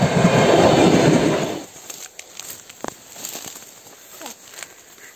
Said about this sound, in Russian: Поезд идет.